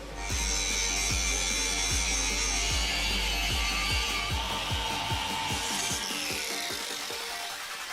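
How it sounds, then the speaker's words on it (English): An angle grinder works over welded patch plates on a 1956 VW Beetle chassis, a loud, continuous close-up whine with a rhythmic pulsing rasp as the disc passes back and forth over the metal, alone without talk. "Just some grinding to do."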